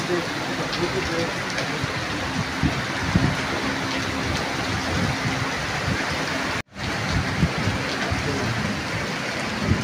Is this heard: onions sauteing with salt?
no